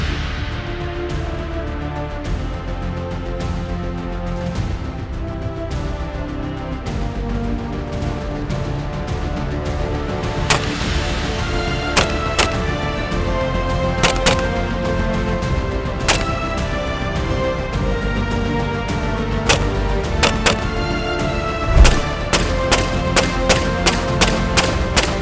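Sharp gunshots from an IWI Galil Ace rifle on a shooting range ring out, first sparse single shots, then a quicker run of spaced reports near the end, over steady outdoor background noise.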